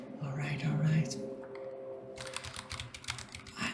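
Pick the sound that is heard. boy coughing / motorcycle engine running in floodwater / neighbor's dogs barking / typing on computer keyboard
typing on computer keyboard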